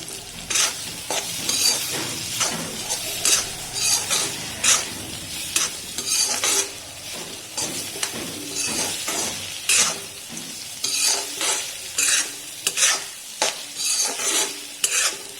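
Onion and bitter gourd sauté in a pan, with a steady sizzle under frequent rhythmic stirring scrapes and occasional utensil clinks against the pan, close and continuous for a long stretch without talk.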